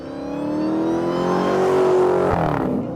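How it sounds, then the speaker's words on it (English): A big Hemi V8 engine revs up loudly, pitch climbing steadily, then snaps off with a sharp drop as it settles back; no talking. "A big, loud, 8-cylinder engine found in many of the vehicles"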